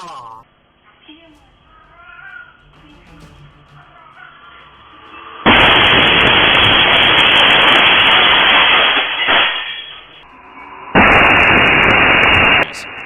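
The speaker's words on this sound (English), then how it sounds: "a massive explosion went off across from the cultural center in Yanjiao" A massive explosion goes off across from the cultural center in Yanjiao. A sudden loud, roaring blast swells over several seconds, eases off, then surges again, following a stretch of quieter background voices.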